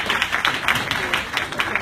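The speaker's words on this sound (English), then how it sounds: "Let's give a final round of applause." A small conference audience claps in a brief round of applause, individual claps audible in a quick irregular rhythm, fairly close.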